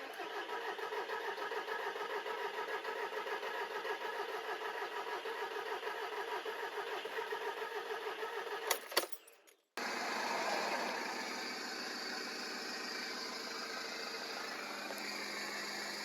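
A VW Polo 1.6 TDI diesel engine runs steadily, cuts briefly with a clattering restart burst near the middle, then settles back into a loud, continuous idle close by.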